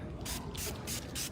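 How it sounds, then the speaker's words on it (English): Four quick spritzes from a trigger spray bottle, evenly spaced hissy bursts of mist, close and fairly quiet. "It's like a water spray."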